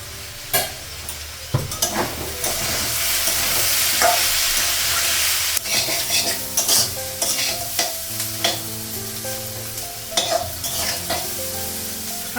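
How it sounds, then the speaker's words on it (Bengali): Potatoes frying in hot oil in a Bengali home kitchen as aloo bhaji, stirred steadily: a continuous loud sizzle broken by repeated scraping clicks of the spatula against the pan. "আলু ভাজা হয়ে গেছে, আলু ভাজাটা নামাবো"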